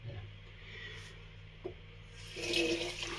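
Cool tap water runs and splashes before lathering a shaving soap by hand, a steady close wash with a louder splashing burst near the end.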